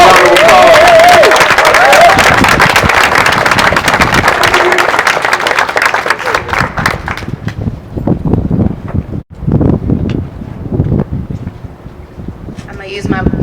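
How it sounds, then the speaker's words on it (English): A crowd at an outdoor Black Lives Matter rally in Albuquerque gives loud, dense applause that thins out and fades after several seconds, with wind buffeting the microphone. "Give her a round of applause."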